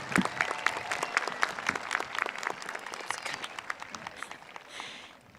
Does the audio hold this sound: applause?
yes